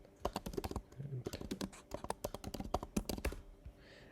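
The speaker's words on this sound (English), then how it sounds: "I'm going to type in the values here" Values are typed on a computer keyboard in close, quick bursts of crisp key clicks, with short pauses between groups of presses and a faint voice briefly heard underneath.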